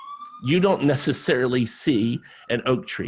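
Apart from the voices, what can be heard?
siren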